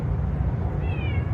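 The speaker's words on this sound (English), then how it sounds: "Meow, meow. She must be hungry because she's talking to me." A hungry house cat gives a single short rising meow partway through, close by, over a steady low background hum.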